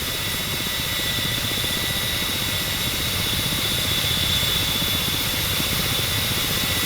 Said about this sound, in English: The helicopter during hover has positive feather stability and will try to rotate to face against the wind